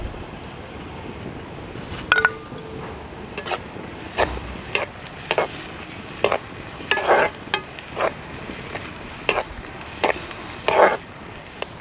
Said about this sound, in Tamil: இந்த பச்சை மிளகாவும் அதில் சேர்த்து வதக்கலாம்.